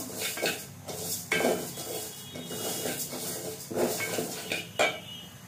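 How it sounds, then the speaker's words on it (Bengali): A utensil scrapes and stirs mung dal being dry-roasted in a metal pan, with repeated clinks and rattles close up and no talking. "মুগ ডালটা একটু ভালোভাবে ভেজে নেব রান্না করার জন্য।"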